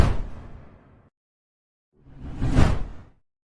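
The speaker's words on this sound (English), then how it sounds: "That swoosh never gets boring." Two separate swoosh transition effects sweep past, one fading out at the start and the second swelling up and falling away after a pause of silence. Both are loud and clean, with no voices.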